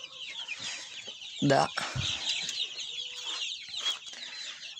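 Chickens cluck in a backyard garden flock that includes a naked-neck rooster, with soft, scattered clucks close by, a louder burst midway and a quiet voice in the background.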